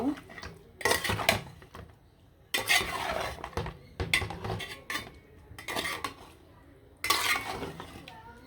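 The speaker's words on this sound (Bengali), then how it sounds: "মাংসটা লাড়াচাড়া দেওয়ার জন্য চলে আসলাম" A spoon clatters and scrapes against a cooking pot as spiced meat is stirred, coming in several loud bursts with quieter gaps between them.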